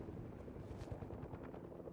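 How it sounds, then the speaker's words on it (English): A helicopter in the Fortnite video game whirs steadily with a dense, continuous rotor drone and low rumble for two seconds, with no voices over it. "How do I even land this helicopter?"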